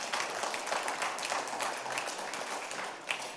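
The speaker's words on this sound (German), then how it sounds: "ja, klatscht mal ruhig." Sustained applause from a lecture audience, a dense steady patter of clapping that fills the whole stretch at moderate level with no one speaking over it.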